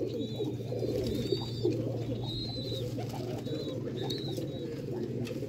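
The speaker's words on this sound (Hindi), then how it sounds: "ਇਹ ਨੇ ਦੋਸਤੋ ਸਿਆਲਕੋਟੀ ਕਬੂਤਰ, ਚੈਂਪੀਅਨ ਕਿਸਮ ਦੇ ਸਿਆਲਕੋਟੀ ਕਬੂਤਰ।" Champion Sialkoti pigeons coo in soft, repeated low murmurs against a steady hum, with a few thin higher chirps scattered over the top throughout.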